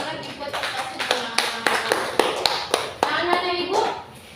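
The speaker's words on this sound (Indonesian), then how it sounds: "yuk, tepuk tangan lagi buat kita semua" Indonesian high school class claps along together, a loose series of sharp, uneven hand claps with children's voices and chatter in between.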